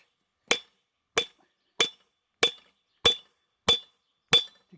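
A hammer strikes a rivet seven times in an even, steady rhythm, each blow a sharp, close metallic crack with a short ring, separated by silence.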